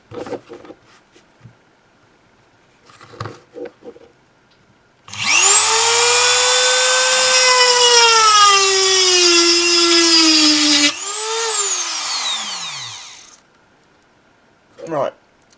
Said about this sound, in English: let's try out the Dremel on this 6mm rod.